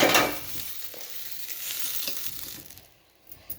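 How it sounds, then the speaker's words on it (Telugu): Onions fry in a pan while being stirred, a close sizzling hiss with scraping stir sounds that fades out near the end, with no talk. "ఇప్పుడైతే ఎర్రగడ్డ కూడా చక్కగా వేగిపోయింది"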